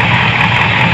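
A Chevy 454 big-block V8 in a square-body Chevy dually truck, fitted with an Edelbrock 1411 carburetor, idles after a vacuum leak repair, a loud, steady, even rumble up close with no talking.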